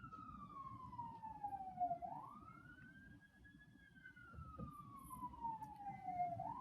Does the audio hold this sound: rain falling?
no